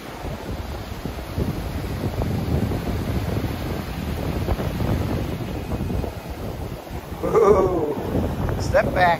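Atlantic Ocean surf at a St Augustine, Florida beach rumbles steadily under gusting wind buffeting the microphone, with people talking nearby toward the end.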